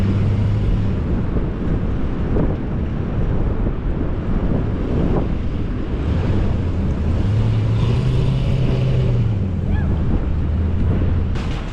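An off-road vehicle on monster tires crawls up a sandy slope on a winter beach, a steady low engine drone under heavy wind buffeting the microphone and distant surf.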